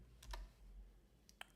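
Code being typed on a computer keyboard, heard as a few scattered, faint key clicks with gaps between them over a low background hum.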